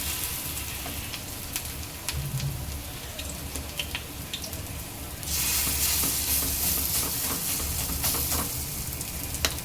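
Kevla vadi pieces fry in medium-hot oil, a steady close sizzle that swells into louder, denser crackling midway as more pieces drop in, with no voices.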